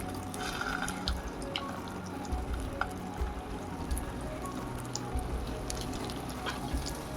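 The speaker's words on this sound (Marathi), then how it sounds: "आपण हे तुपामध्ये तळू तुपामध्ये फ्राय करून घेऊयात" Nachni vegetable cutlets frying in ghee, a dense continuous crackling sizzle with small popping spits, steady and close.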